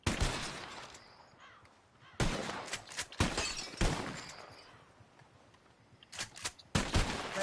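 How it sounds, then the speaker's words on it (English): Revolver shots crack out in Red Dead Redemption 2 as glass bottles shatter, with loud, widely spaced bursts of gunfire and breaking glass separated by quieter pauses. "Whoever shoots more of these bottles wins. Just draw your gun and aim when you're ready"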